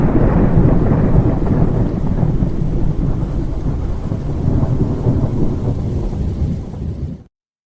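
Thunderstorm sound effect from a music track: steady loud rumbling thunder with heavy rain, a dense continuous wash that holds for about seven seconds and then cuts off abruptly.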